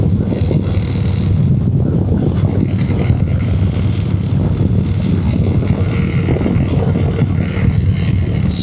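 A Harley-Davidson motorcycle cruises on a Blue Ridge Mountains road at about 55 mph, its engine a steady, loud, continuous drone mixed with rushing wind throughout.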